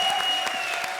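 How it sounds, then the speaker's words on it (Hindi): Loud applause from a comedy show studio audience, dense steady clapping filling the whole moment with no voices over it. "हो जाए एक बार जोरदार तालियां"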